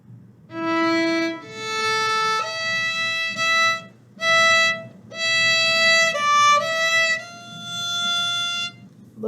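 A violin plays the opening two measures of La Cinquantaine, a series of sustained bowed notes with short gaps between phrases, close and clear with no voice.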